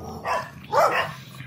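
Dogs on a street in Nakhon Ratchasima, Thailand, give two close, loud barks about half a second apart, followed by a short trailing yelp, with no talking.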